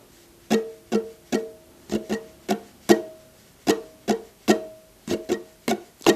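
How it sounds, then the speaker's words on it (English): A ukulele is strummed in a rhythmic pattern of short chord strokes, close and clear, with brief gaps between groups. "Okay, so the strumming pattern will sound like this."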